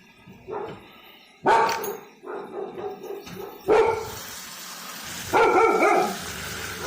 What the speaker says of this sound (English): Not sure what the girls are barking at